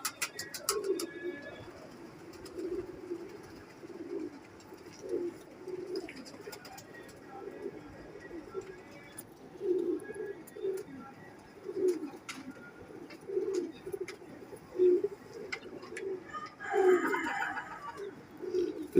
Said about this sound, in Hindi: जौनसरे नीलदुम्बे कबूतर